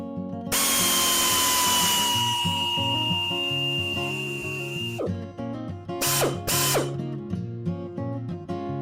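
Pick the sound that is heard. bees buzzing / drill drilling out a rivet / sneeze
drill drilling out a rivet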